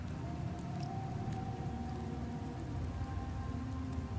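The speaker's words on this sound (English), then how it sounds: "The rains in Septimont never seem eager to leave this season." Steady rain pours in the rainy Septimont region of the video game Wuthering Waves, a dense continuous hiss with scattered drop ticks, alone under a faint tonal game ambience.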